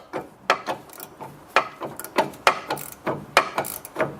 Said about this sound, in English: And we're slowly removing that nut.